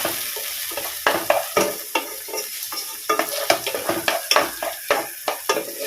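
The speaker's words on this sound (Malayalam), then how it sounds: "ഒരു തക്കാളിയും ചേർത്ത് വഴറ്റും." Chopped tomato sautéing in a pan for a Kerala okra milk curry (vendakka paal curry), with a steady sizzle broken by repeated scraping, clattering stir strokes of a spoon against the pan, close and fairly loud.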